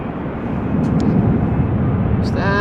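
A loud, continuous broadband roar of an airliner at Amsterdam Schiphol Airport, sustained jet noise throughout with a brief higher whine rising at the end.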